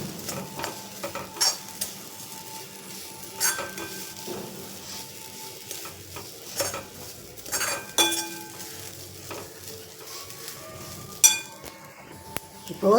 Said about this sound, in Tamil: இந்த தேங்காவையும் நல்லா வறுத்துடலாம்.